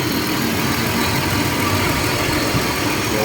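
A Ford Explorer engine idles steadily right after starting, following a fuel pump fault that had it cranking without firing; a continuous, fairly loud mid-pitched hum and rumble runs unbroken with no talk.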